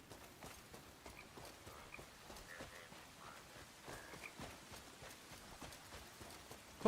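Horse hooves clip-clop at a steady walking rhythm while riding in the video game Crimson Desert, fairly quiet and even, with light rain-like background patter.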